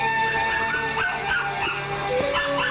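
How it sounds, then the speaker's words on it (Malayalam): A dog barks and whimpers in a house at night, several short yips and barks over a steady tonal background hum, fairly close and alone. "കുരയ്ക്കുന്ന കേട്ടില്ലേ?"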